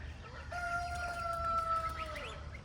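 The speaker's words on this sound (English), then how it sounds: "I have several roosters, and they all would like to have a conversation" A rooster crows once in a long, drawn-out call over a quiet outdoor background, fairly distant.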